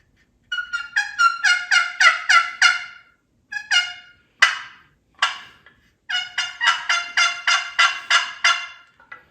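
Handmade wooden turkey calls in cedar, cherry and walnut produce loud, close runs of sharp, raspy yelps in quick rhythmic series, separated by brief pauses and a few single clucks.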